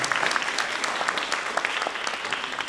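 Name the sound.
applause for the panel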